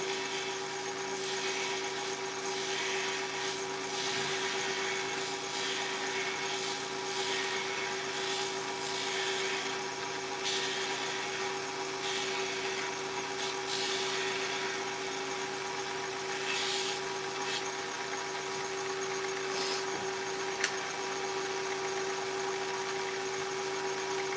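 A power tool runs steadily while profiling the edges of blanks, its constant high whine and buzzing drone continuing unbroken for a long stretch with no voices.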